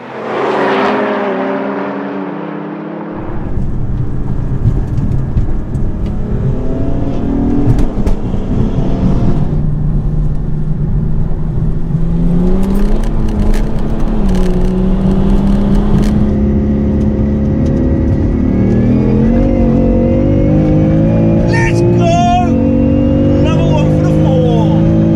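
A BMW M4 and a BMW 430d diesel launch in a drag race, loud engines roaring and revving up through rising gear pulls with shift dips over about twenty-five seconds, a voice talking over part of it.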